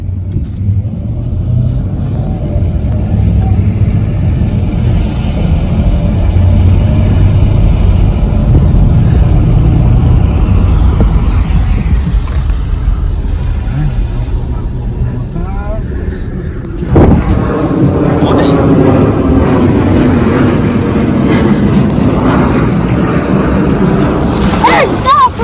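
A truck rumbles heavily while driving off-road, a deep continuous engine and wind-buffeted roar, with people talking and shouting over it as the sound grows rougher later on.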